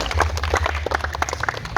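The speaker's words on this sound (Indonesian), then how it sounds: "Oke, tepuk tangan." A classroom group claps briefly for a presenter during a class session, a short burst of scattered, uneven hand claps with some low rumble and background noise.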